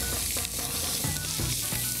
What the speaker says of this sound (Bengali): আলুগুলো এই মাখনে ভেজে নেবে?